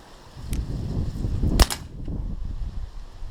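A single sharp shot from a Beeman P17 air pistol firing a Crosman domed pellet, one loud crack at mid-clip against a low rumbling background, with no talking.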